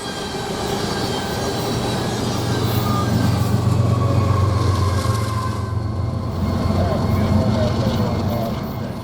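A coal train rumbles past steadily with a low continuous roar, rattling wheels and faint squeals, loud and close throughout.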